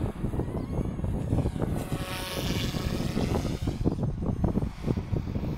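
A small 3D RC helicopter flies maneuvers outdoors, its rotor whine and buzzing pulses rising and falling continuously with some wind rumble, fairly close and loud.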